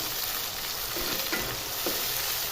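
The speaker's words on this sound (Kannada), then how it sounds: "ಟೊಮೆಟೊ ಹಣ್ಣು ಸ್ವಲ್ಪ ಎಣ್ಣೆಯಲ್ಲೇ ಸ್ವಲ್ಪ ಚೆನ್ನಾಗಿ ಕುದಿಬೇಕು" Chopped tomatoes fry in hot oil in a pan for an egg dish, a steady close sizzle and hiss with faint stirring scrapes and no voices.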